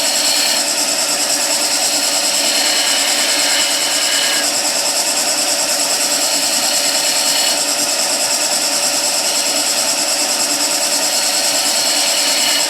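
A skew chisel cuts into spinning wood on a lathe, a continuous bright hissing scrape that holds steady throughout, with slight shifts in tone as the cut changes and no voices.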